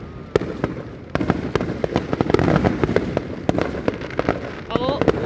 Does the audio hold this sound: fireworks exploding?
yes